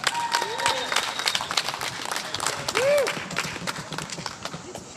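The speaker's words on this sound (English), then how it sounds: "Everybody give him a round of applause." A crowd applauds at an outdoor rally against red flag laws in Columbus, Ohio, with steady clapping and scattered cheers throughout.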